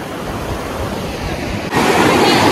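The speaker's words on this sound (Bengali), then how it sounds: "এই একটা স্রোতের শব্দ দারুণ লাগছে এখানে" Water rushing in a stream at an outdoor picnic spot, a loud, continuous broadband wash that swells noticeably partway through with no voices over it.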